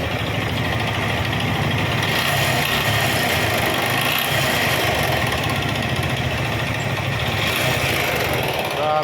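A Suzuki Gixer150 Fi motorcycle engine, after a general overhaul with a replaced con rod, idles steadily and close up with an even mechanical chatter that holds constant throughout, with no talking over it.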